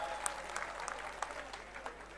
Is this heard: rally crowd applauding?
yes